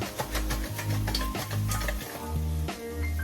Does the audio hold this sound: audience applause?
no